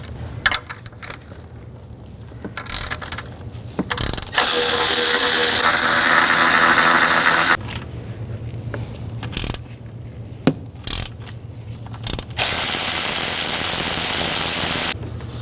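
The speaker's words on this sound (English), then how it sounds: "Then use a 13mm socket and take these 3 bolts out here and these 3 on the back." A ratchet with a 13mm socket loosens intake manifold bolts on a 2010-16 Buick LaCrosse, with close, loud rapid clicking bursts separated by pauses, small knocks and handling noises.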